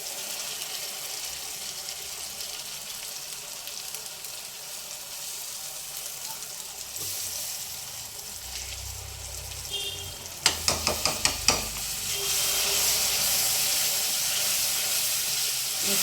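Tomato puree frying in a pan with ginger-garlic paste, a steady sizzling hiss with a short burst of clattering spoon-on-pan stirring knocks midway, then a louder continuous sizzle.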